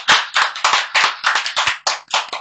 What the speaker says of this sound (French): Allez, un tonnerre d'applaudissements s'il vous plaît pour Jikael.